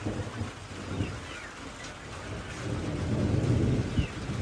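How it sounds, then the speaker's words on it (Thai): Steady rain falls outdoors during a thunderstorm while deep, rolling thunder rumbles underneath and swells toward the end. "ทั้งฝนตกทั้งฟ้าห้อง"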